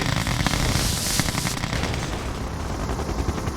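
Video game battle in Yuri's Revenge, with dense rapid gunfire and heavier artillery blasts rattling continuously, loud and crowded, thinning slightly toward the end.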